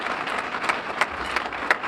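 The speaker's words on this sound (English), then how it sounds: "We can applaud now." Audience at a Rotary Club luncheon applauding: a short burst of clapping from a mid-sized crowd in a room, steady with a few sharper claps standing out.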